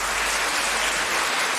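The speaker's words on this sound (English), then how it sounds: "You're already clapping." An audience claps at a school debate competition in Lagos, a loud, dense, continuous wash of applause filling the room without pause.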